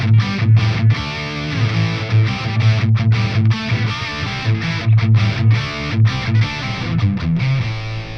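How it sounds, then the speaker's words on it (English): Electric guitar played through a Soldano ASTRO 20, a 20-watt all-tube amplifier, with sustained distorted chords and low riffing. It rings loud and steady for several seconds, with no talking. "It's an all-tube 20-watt amplifier with all the Soldano tones, and it comes loaded with 6 IRs."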